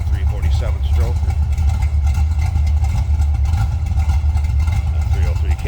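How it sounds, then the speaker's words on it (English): A 1983 Ford Mustang hatchback with a 347 stroker and a 303 cam idles with a deep, steady, loping rumble, heard up close while someone talks over it. "Rumble coming out of that 347 stroker."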